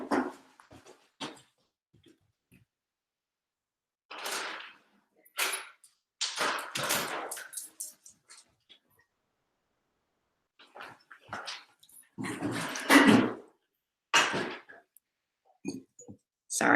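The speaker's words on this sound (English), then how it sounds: "Pardon me, the dog wants in." A dog wanting to be let inside whines and gives short yips and barks in scattered bursts, fairly close, separated by quiet gaps.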